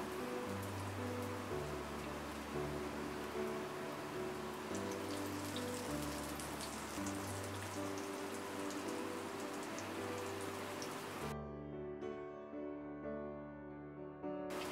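Pumpkin chops fry in hot oil in a frying pan, producing a faint, steady crackle and spatter like light rain, heard beneath soft sustained music.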